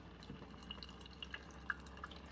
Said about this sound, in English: Here comes the water out.